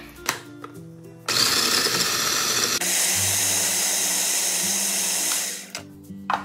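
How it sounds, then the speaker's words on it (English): A grinder whirs loudly and steadily as castella cake is ground with matcha powder into a green coating, running for several seconds after a few quiet clinks and stopping near the end. "Now let's grind it with matcha powder."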